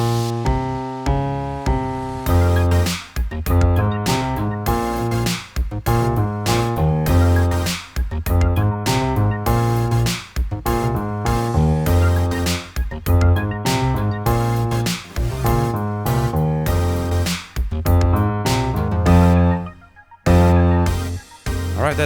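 Piano left-hand part of a song played at a full 100 BPM tempo, steady syncopated bass notes and chords in a continuous groove, close and loud for about twenty seconds before stopping, with no talking.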